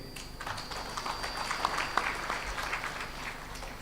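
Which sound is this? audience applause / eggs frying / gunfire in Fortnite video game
audience applause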